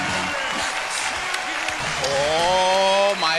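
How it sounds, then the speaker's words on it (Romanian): Audience applause welcoming the presenter at a comedy show, clapping and cheering from a crowd with voices and a whooping holler rising over it in the second half. "haideți să-l primim cu aplauze puternice pe al nostru prezentator simpatic, Dan Badea!"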